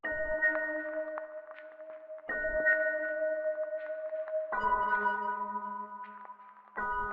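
Accent sound from the Playbox sample library in Kontakt, arranged for a Latin guitar loop: sustained, bell-like tonal hits in three sections, each starting with a sharp attack and then ringing steadily, with no voices.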